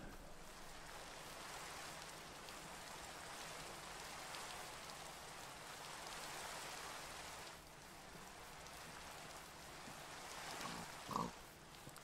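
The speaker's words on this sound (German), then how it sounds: "Hey Schweini" A pig in the video game Minecraft gives a short grunt near the end, over a steady rain-like hiss that fills the whole scene.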